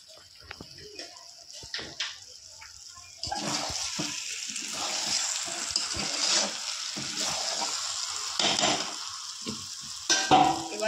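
Water poured into frying chicken sets off a sudden loud sizzling rush after a few quiet stirs, then keeps hissing and bubbling with stirring scrapes, close up.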